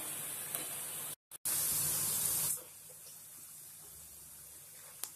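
Onion pakoda frying in hot oil in a home kitchen, a loud steady sizzle that breaks off briefly, returns strong, then drops to a quieter background bubbling with small pops.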